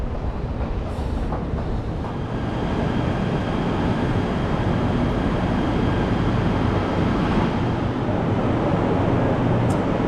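Loud, continuous rumble of a moving train near Kuala Lumpur, steady roar and rattle filling the whole stretch without voices.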